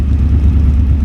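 Triumph motorcycles riding in a group on the Distinguished Gentlemen's Ride through Edinburgh give a loud, steady, close low engine rumble with no voices.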